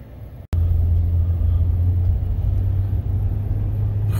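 Inside a 1983 Porsche 944 on the road, a loud, steady low engine and road rumble fills the cabin after a brief thump at the start.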